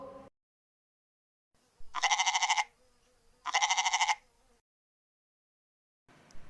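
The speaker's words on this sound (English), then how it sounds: "Goat." A domestic goat bleats twice, each cry a loud, quavering, close call about half a second long with a gap of about a second between them, surrounded by silence.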